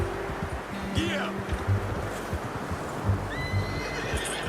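Horse from Red Dead Redemption 2 neighs in a brief whinny amid steady outdoor game ambience and hoof clatter, with a few short distant calls layered in the background.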